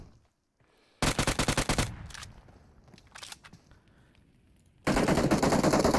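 Automatic gunfire from a PUBG Mobile pro scrims match comes in loud, rapid bursts, with a sustained volley, scattered shots in between, and another heavy burst at the end.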